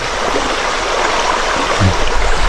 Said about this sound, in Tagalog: dito lang yung banda na agos na malakas